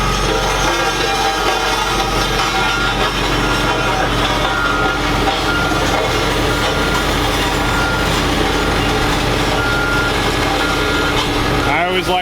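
A concrete mixer truck turns its drum with a loud, steady mechanical grinding and engine drone that continues without a break, then a brief clatter near the end.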